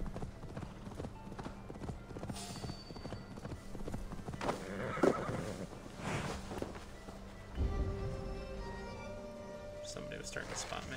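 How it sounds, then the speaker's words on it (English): In a Viking-era video game, a horse's hooves clip-clop steadily at a trot, with a whinny midway and game ambience and voices around. "Giddy up, little horsey."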